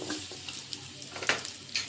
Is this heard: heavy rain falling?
no